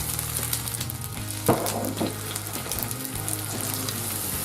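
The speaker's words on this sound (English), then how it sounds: "Put some butter in your frying pan, put the heat on maximum." Steady sizzle of mushrooms frying in butter over maximum heat fills the pan, with a few soft clinks and stirring noises on top; no talking.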